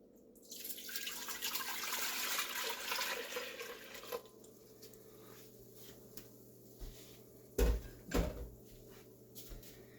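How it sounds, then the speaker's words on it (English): Grape juice pours steadily into a stainless steel pot for about four seconds, a broad splashing rush, followed by quieter kitchen handling and a couple of sharp knocks of the pot. "into our stainless steel pot here, we're going to go with 5 cups of grape juice."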